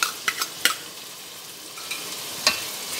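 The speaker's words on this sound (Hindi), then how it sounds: "अब मैं इसमें हरी प्याज जो चॉप थी मोटी मोटी, वो देखें मैं इसमें ऐड कर रही हूँ इस मोमेंट पे" Thick-chopped green onions hit a hot pan on the flame for a Sindhi biryani, giving a soft, steady sizzle with a few sharp clinks and stirring knocks scattered through it.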